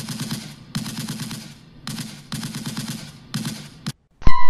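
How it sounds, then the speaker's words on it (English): Rapid bursts of loud gunfire, automatic volleys separated by brief pauses, ending in silence and then a sharp electronic tone. "Gunfire not penetrating."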